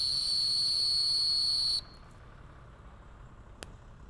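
A dog handler's steady high-pitched whistle blows for under two seconds at a retriever field trial, then cuts off, leaving quiet outdoor background with one faint click later.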